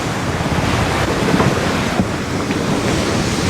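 Heavy ocean waves roughly 40 feet high and strong wind near 45 knots roar continuously at sea aboard a racing sailboat, a dense, steady wash of surf and wind buffeting the microphone with no voices.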